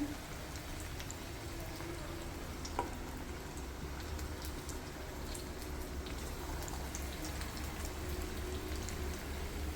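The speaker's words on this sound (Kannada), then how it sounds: "ಎಣ್ಣೆಗೆ ಬಿಟ್ಬಿಡೋಣ ಅದೇ ಆ ಕಡೆ ಕಡೆ ತಿರುಗಿಸಿ ನಾವು ಫ್ರೈ ಮಾಡ್ಕೋಬೇಕಾಗುತ್ತೆ" Potato bondas fry in hot oil and are turned from side to side, giving a steady, soft sizzle with fine crackles and a faint clink near the start and no talking.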